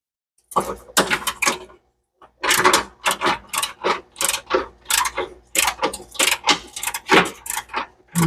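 A ratchet socket wrench clicks in quick repeated strokes while loosening bolts during a turbo test fit on a budget Mustang, the bursts close and crisp with a brief pause partway through.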